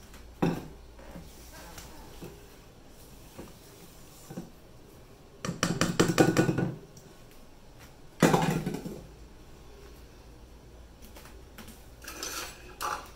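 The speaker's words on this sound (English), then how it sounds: "Once the batter looks like this, scrape down the sides." A spatula scraping the sides of a bowl of chocolate chip cookie batter, two bursts of rhythmic rasping scrapes between a few light clinks and taps, close and moderately loud with no talking.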